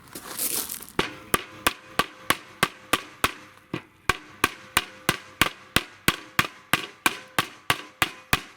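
A new Powerflex bushing is hammered into a control arm bracket from a BMW Z3/E36. After a brief rustle come about twenty loud, sharp metallic blows in a steady, even rhythm.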